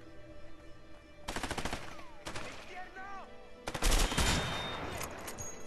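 Gunfire in a shootout in A Way Out, with a sniper rifle in use: rapid volleys of sharp shots in several bursts, mixed with other battle noises at moderate loudness.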